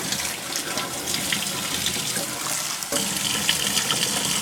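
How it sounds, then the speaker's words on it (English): Steady water streams from a running tap, a constant rushing hiss with a brief dip partway through, close and fairly loud with no talking. "I'm going to run my water"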